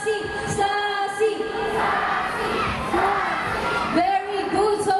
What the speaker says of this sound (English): So all the girls will cheer for Sassy